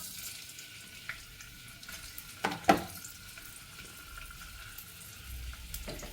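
Sliced onion dropped into hot oil in a pan for a sandwich filling, a soft, low sizzle with a sharp burst of crackling midway as pieces hit the oil, then settling back to a quiet fry, no talk.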